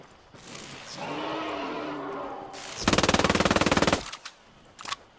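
Gunfire in Ghost Recon Wildlands, a rapid burst of about a second of automatic shots followed by a single later report, with a voice speaking before the burst.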